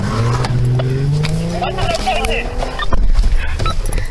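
A black 2017 Chrysler 300 speeds off during a police chase, engine rising and tires whining over radio chatter and voices.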